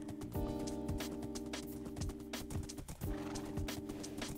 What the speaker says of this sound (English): I can just pull my horse with this lead